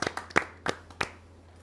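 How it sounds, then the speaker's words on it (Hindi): Applause welcoming a poet at a Hindi kavi sammelan, a few sharp, close hand claps in a loose rhythm that quickly fade out. "ज़ोरदार तालियों से स्वागत करें"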